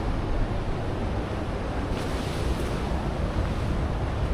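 Ocean surf washes steadily onto a beach on the southern coast of Java, a continuous broad roar of breaking waves mixed with wind buffeting the microphone.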